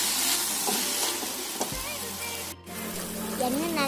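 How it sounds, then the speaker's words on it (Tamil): Chopped banana flower frying in oil for an egg omelette, a soft continuous sizzle with a few stirring scrapes, close by, with faint voice-like sounds mixed in. "வாழைப்பூ நல்லா வேகிற அளவுக்கு ஃப்ரை பண்ணிக்கிறோம்"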